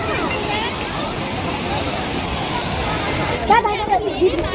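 An artificial waterfall at Eco Park gives a continuous rushing splash of water, with people chattering nearby over it.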